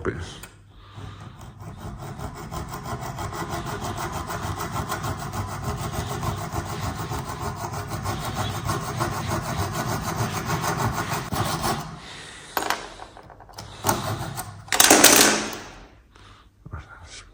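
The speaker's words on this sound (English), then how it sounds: "Use a hacksaw like that." A hacksaw cuts through a copper pipe compression fitting in sustained back-and-forth strokes for about twelve seconds, close and fairly loud, then stops and a few handling knocks and a brief scrape follow.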